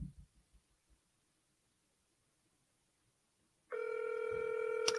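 A telephone ringback tone during an outgoing cold call to a property seller, a steady electronic ringing tone that starts abruptly after a quiet stretch with faint clicks, clear and continuous.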